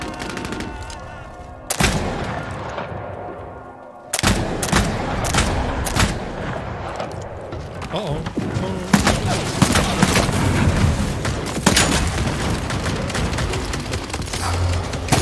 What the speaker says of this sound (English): Shooting down into the street.